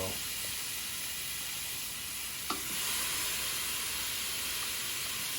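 Pineapple slices grill on a Ninja Foodi Grill with a steady, even sizzle and hiss. One small pop cuts through the hiss midway, and no one speaks.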